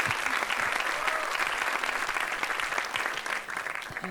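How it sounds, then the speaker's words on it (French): Conference audience applauding steadily and fairly loudly throughout, a dense wash of clapping that tapers slightly at the end. "Vous pouvez l'applaudir"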